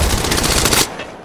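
Automatic gunfire in the mobile battle royale Apex Legends Mobile, a loud, close, rapid burst that cuts off abruptly near the end, with no talking.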